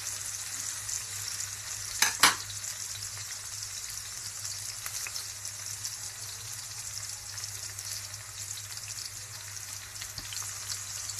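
Green chillies fry in a pan and are stirred, giving a faint, steady hiss of sizzling oil with a couple of brief scraping knocks early on, quiet and without talk.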